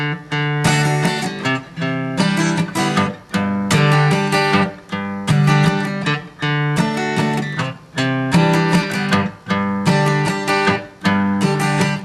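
Bright guitar chords strummed in a steady, repeating down-up rhythm with brief pauses between phrases, close and clear with no voices.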